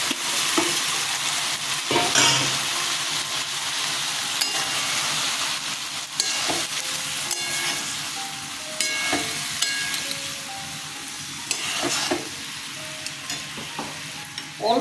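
Okra fries in a spiced yogurt masala with a continuous hiss, punctuated every few seconds by the knock and scrape of a spoon stirring the pan, and no talking.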